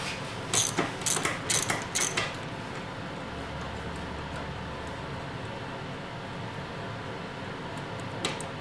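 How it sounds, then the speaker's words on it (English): A ratchet with socket and extension loosens the four 6mm bolts holding the inner dust boot on a 2004 or earlier Mustang shifter: a quick burst of sharp metallic clicks near the start, then quiet mechanical handling with a final faint click. "socket and an extension on your ratchet, and you want to remove the 4 6mm bolts that hold the inner dust boot in place"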